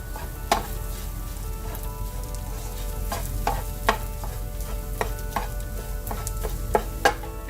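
Okra and soft scrambled eggs stir-frying in a pan, a close steady sizzle with scattered clinks and scrapes of a spatula against the pan, no talking.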